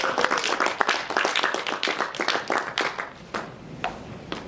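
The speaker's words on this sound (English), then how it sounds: "So give her a round of applause." An audience at a December college poetry reading claps for a poet, a dense run of handclaps that thins into scattered claps toward the end, with no talk over it.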